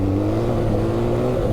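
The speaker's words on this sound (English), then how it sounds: "Oh, this is a violent beast, this engine." BMW R 12 G/S motorcycle engine pulling hard under acceleration on a rough road, a steady close, loud drone with rising harmonic tones throughout, no talk.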